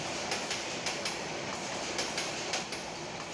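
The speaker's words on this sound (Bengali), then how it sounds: "কিশোরগঞ্জ এক্সপ্রেস ট্রেনটি ছেড়ে দিল ভৈরব রেলওয়ে জংশন থেকে ঢাকার উদ্দেশ্যে" The Kishoreganj Express rolls out of Bhairab Railway Junction toward Dhaka, its wheels beating a regular clickety-clack over a constant rumble, with no voices.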